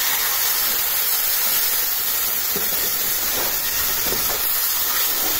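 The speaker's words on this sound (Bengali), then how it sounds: "এখন এই যে ডালের থেকে একটু পানি দিব মশলা কষানোর জন্য" Water splashed from a pot of lentils onto onions and spice paste frying in a pan, giving a steady, loud hissing sizzle that fills the whole stretch with faint clatter underneath.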